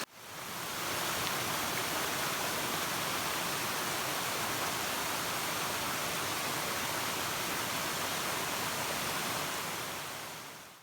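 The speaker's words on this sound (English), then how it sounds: "We have Virginia Hawkins waterfall up ahead." Virginia Hawkins waterfall on a Southern Appalachian backpacking trail, a steady dense roar of falling water, loud and unbroken with no voices.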